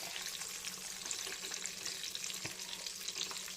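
Chicken nuggets fry over a slow flame, giving a steady, close hiss of oil with faint crackles and an occasional soft stir, continuous throughout.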